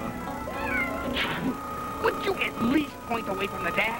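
Cat in the back seat of a car meowing repeatedly, several drawn-out, wavering cries, some close to caterwauling, scattered across a few seconds while someone talks over them.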